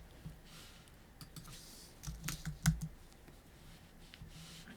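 Quiet keystrokes tap on a computer keyboard in short, uneven bursts, with a brief cluster of sharper clicks near the middle and no talking.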